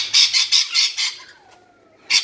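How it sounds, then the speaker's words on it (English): Rainbow lorikeets squawking close up, a rapid series of harsh, shrill calls, a brief pause, then another burst of screeches. "They're lovely birds though. These are rainbow lorikeets."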